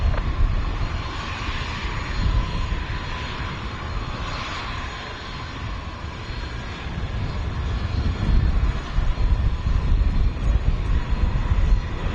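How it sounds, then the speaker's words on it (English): A Boeing Dreamliner jet taking off from runway 30 at Washington Dulles International Airport, a loud continuous engine roar with a broad rushing rumble and some wind buffeting on the microphone, no speech. "So that Dreamliner was taken off on runway 30."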